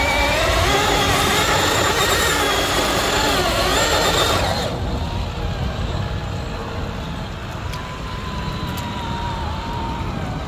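An FMS FCX10 RC crawler drives up a muddy slope with its motor whining loudly and steadily for the first half, then dropping to a quieter hum as it eases off near the top.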